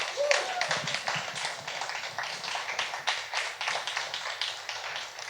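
An audience claps for storytellers coming out on stage, a sustained patter of many hands, moderately near and fairly even throughout.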